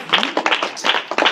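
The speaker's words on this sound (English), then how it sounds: "Okay, let's clap them." Students at a school assembly debate practice clap in a short, scattered burst, a few sharp, close handclaps in quick irregular clusters.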